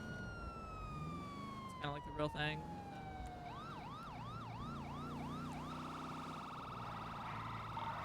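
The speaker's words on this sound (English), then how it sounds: "Do it with lights and sirens." Police car siren from GTA V NoPixel roleplay, a wailing siren sweeping up and down repeatedly through the middle of the clip, with a steady engine drone beneath and a person talking over the start.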